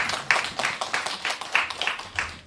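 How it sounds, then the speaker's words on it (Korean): Congregation members at a church youth service clap in thanks, many hands striking in an uneven, lively patter with recurring louder bursts, moderately near and without speech. "감사의 박수 한번 올려드립시다."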